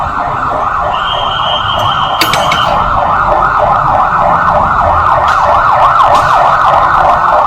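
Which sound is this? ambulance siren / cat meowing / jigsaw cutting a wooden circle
ambulance siren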